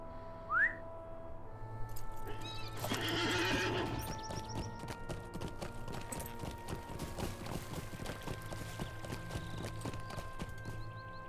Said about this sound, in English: now we got to take another little horse ride back to Estilden